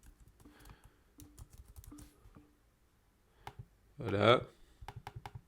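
Typing on a computer keyboard while editing a text title in Final Cut Pro X, a rapid burst of close keystroke clicks near the end, with someone speaking French before it.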